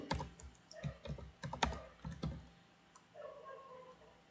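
Typing on a computer keyboard, a quick close burst of soft key clicks for a couple of seconds, then quieter scattered taps.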